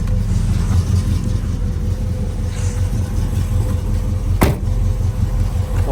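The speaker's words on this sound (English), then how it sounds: "real nice rumble coming out the back" A 1975 Pontiac Trans Am with a 455 HO V8 and four-speed sits idling, its exhaust giving a steady, loud, deep low rumble that holds even throughout, with no voices over it.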